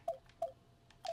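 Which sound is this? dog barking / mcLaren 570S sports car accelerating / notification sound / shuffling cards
notification sound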